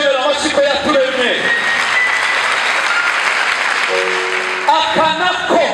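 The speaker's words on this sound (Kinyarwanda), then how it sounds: "nimureke tuyikomera amashyi ko yaturemye" An audience at a university gathering breaks into loud, sustained applause that swells and fills the room, with a speaker's voice heard before and after the clapping.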